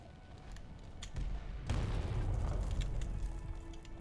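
A grenade explosion in a video game: a deep low boom rolls in and sustains as a heavy rumble for a couple of seconds after a few faint earlier pops, moderately loud and without talk.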